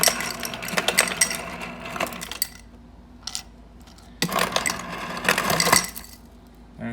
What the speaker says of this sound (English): This is regular ice mode.